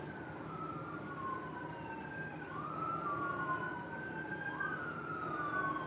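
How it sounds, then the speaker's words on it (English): Sirens wail in rising and falling sweeps, moderately distant over a steady low rumble of traffic, growing slightly louder toward the end. "Y'all hear those sirens?"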